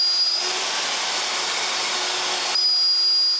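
A power drill fitted with a 7mm bit bores holes through two clamped workpieces, giving a loud steady whir for about two seconds between quieter motor spin at either end.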